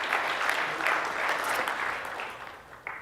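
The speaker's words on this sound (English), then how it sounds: "I think that deserves a round of applause as well." An audience breaks into applause, a dense wash of many hands clapping at moderate distance that gradually thins and fades over a few seconds.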